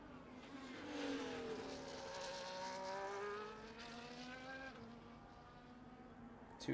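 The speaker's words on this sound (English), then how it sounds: "Two cars come across the line." Race cars in a sim racing game cross the finish line at the Jeddah circuit, engines droning loud with rising and falling harmonic pitch as the cars pass close, then the roar fades slightly toward the end.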